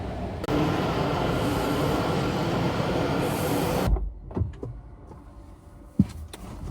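A metro train at a Washington DC station rumbles steadily and loudly, then cuts off abruptly as it stops. Scattered clunks and thumps from the platform follow.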